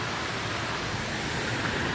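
Water streaming out of Bhivapur Lake near Amravati, a steady close rushing and splashing with no pause.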